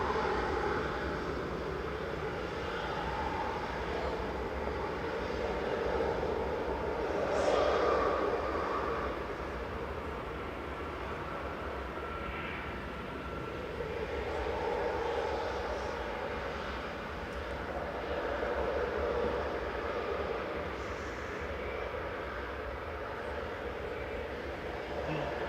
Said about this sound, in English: Unfortunately, we've got the noisy EasyJet, so probably won't be able to hear its howl